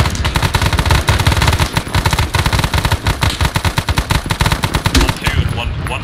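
Automatic weapons fire rattles continuously in ARMA 3 combat, dense loud bursts from several guns overlapping with sharp single shots, a platoon-sized firefight with no break.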